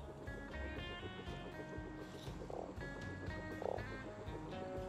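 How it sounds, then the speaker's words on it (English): Frogs croak steadily in the video game Terra Nil, a dense rhythmic chorus of overlapping croaks over gentle water ambience, continuous and fairly close throughout. "Look at the frogs."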